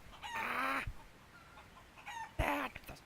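Chickens cluck inside a house in two short, close bursts of squawking, rooster-like calls separated by a quiet pause.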